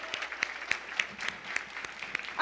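An audience at a church gathering claps for a woman's award win, fairly faint, sparse claps with distinct individual hits, running steadily throughout.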